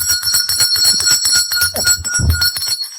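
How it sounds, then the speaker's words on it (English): A hand bell rung repeatedly in quick, loud, ringing strokes with bright sustained tones, close by and alone. "Tari, I think you could probably just ring the bell."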